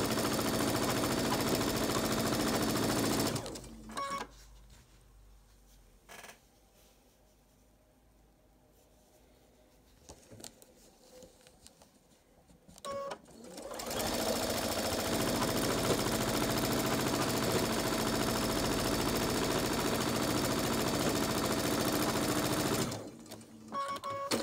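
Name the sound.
sewing machine stitching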